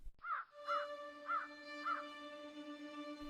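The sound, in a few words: crows cawing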